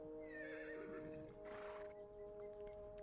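A horse in Reverse:1999 lets out a drawn-out whinny with hoof clip-clops, all over a steady tonal musical drone.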